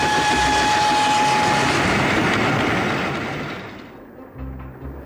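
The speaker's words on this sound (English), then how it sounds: "Once aboard the train, Holmes queries the ticket inspector for information" Train running on rails, a loud rushing roar with rhythmic rail noise that fades away toward the end, heard alone without speech.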